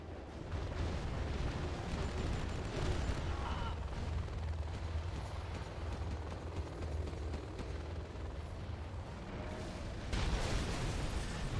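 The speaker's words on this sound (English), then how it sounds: "Carpet bomb for SPL kills most of Reznov's buildings" Rolling carpet-bomb explosions from a match of Command and Conquer Generals Zero Hour, with China's bombers leveling an opponent's base: a dense, continuous low rumble of blasts lasting throughout, swelling again near the end.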